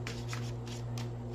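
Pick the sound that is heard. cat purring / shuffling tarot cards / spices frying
shuffling tarot cards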